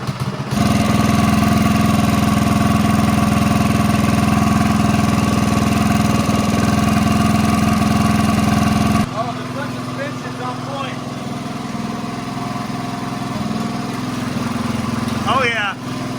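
A 2-stroke Predator engine on a stage 3 minitrike runs steadily at a loud, buzzing idle close by, then drops off partway through to a quieter, rougher hum. Voices talk over it.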